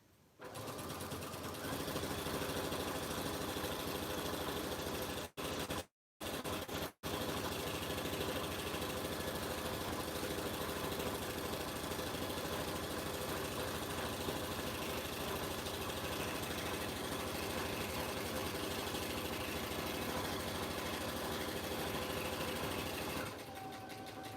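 A sewing machine fitted with a walking foot stitches through six layers of an oven mitt, running loud and steady with a rapid mechanical whir, pausing briefly before carrying on.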